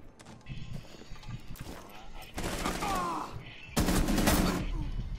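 Gunfire from the tactical shooter game Rainbow Six, bursts of shots building into louder sustained volleys toward the end, with people talking over it.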